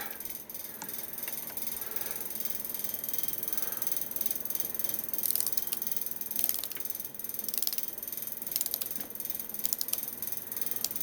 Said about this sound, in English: now we're going to go ahead and torque down 65 inch-pounds